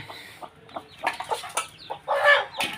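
Newly hatched chicks, nine hatched from ten eggs under a hen, cheeping nearby in short, high-pitched bursts, a few peeps at a time, rising to a busier chorus toward the end.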